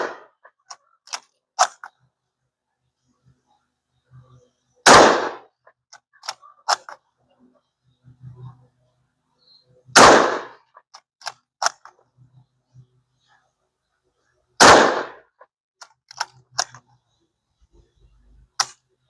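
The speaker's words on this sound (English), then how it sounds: "He's doing a target shoot." An Enfield 2A Ishapore rifle in 7.62 NATO fires three evenly spaced shots at about five-second intervals during target shooting, each sharp and loud, with quieter clicks and handling noises of the bolt in between.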